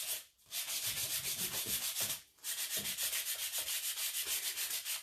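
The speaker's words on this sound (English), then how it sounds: "if you rub your sandpaper over it, it just takes the color down a little bit" Sandpaper rubbed by hand along the painted edges of a wooden box, giving steady, close scratchy strokes in a continuous rhythm, broken by two short pauses, with no talking.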